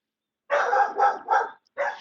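A dog barks four times nearby, three quick barks in a row and then one more after a brief pause, each clear and fairly loud against silence.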